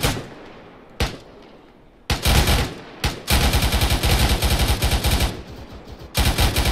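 M240 machine gun fire in the Arma video game on the Altis map, rattling off in sharp bursts. A single shot comes first, then several sustained automatic strings, loud and close, with brief gaps between the volleys.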